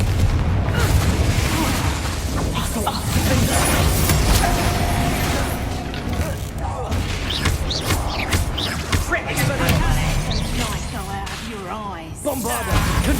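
Confringo fire-blast spells in Hogwarts Legacy combat set off repeated booms and bursting whooshes in quick succession, with a voice shouting over the din.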